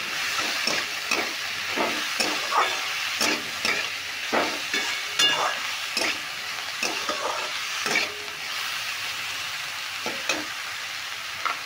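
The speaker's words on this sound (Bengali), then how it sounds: "এবার সেদ্ধ করে রাখা গাজর আর বিনস এগুলো দিয়ে দিচ্ছি।" Boiled carrots and beans go into a pan for sabudana pulao and get stirred. A soft frying sizzle runs underneath a series of irregular scraping strokes from the spatula against the pan, with short pauses between them.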